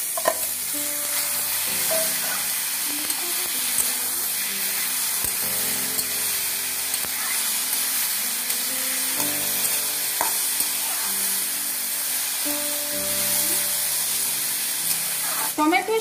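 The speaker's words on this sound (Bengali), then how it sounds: "টমেটো সাতলানো হচ্ছে" Tomatoes sauté with frying onions in a hot pan, a busy sizzle broken by repeated scraping stirs of a spatula, moderately close, with gentle music running underneath.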